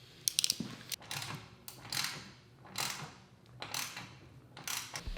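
A ratchet fitted with a 7/16 socket tightens the clamps on turbo intercooler piping, several quick close bursts of clicking pawl strokes repeating in an uneven rhythm over a few seconds.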